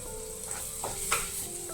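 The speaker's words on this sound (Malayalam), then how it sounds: "ഇനി അതിലേക്ക് കുറച്ച് കറിവേപ്പില ചേർത്ത് കൊടുക്കാം" Curry leaves hit a hot pan of tomato masala for a prawn roast, giving a close, continuous sizzle with a few short spatula scrapes and crackles.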